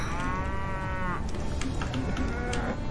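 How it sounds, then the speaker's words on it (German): Cattle lowing in the video game Rock of Ages 2: a long harmonic moo over a steady game rumble, then a second fainter moo near the end, with no talk. "noch mehr Kühe."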